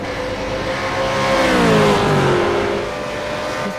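A race car engine accelerates on track during a SuperSeries race, its loud rising drone climbing in pitch, peaking and then easing as the car passes by.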